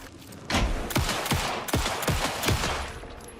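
Rapid gunfire in the video game Alan Wake 2: a run of five or six sharp, loud shots in irregular succession, with no talk over them.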